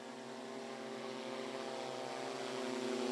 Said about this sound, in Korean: 헬리콥터와 드론은 무인 조종으로 낮게 날아다니며 약재를 골고루 뿌립니다